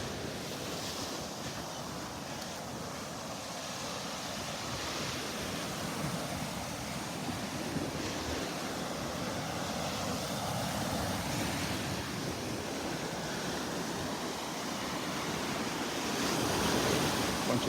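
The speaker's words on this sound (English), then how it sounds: "being able to walk on the beach and listen to the waves" Ocean surf rolls and breaks continuously on a beach at Naples Pier, with a broad wash of noise and some wind rumble against the microphone.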